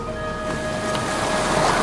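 Sea waves washing in at Dublin Bay with the tide, a steady broad surf wash mixed with wind, loud and continuous, with a faint tonal hum under it.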